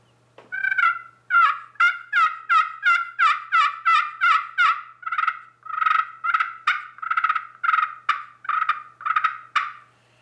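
A hunter plays several turkey calls together, imitating a group of turkeys, in a rapid series of close, clear gobbling yelps. The bursts repeat rhythmically for about ten seconds with short gaps between them.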